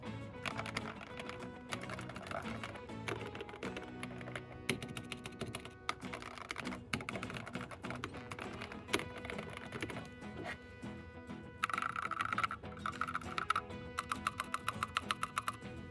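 Rapid mechanical keyboard typing before any foam, tape or lubricant modding, with the top removed, a continuous clatter of clicky keystrokes close to the mic, with brief pauses and bursts, no voices.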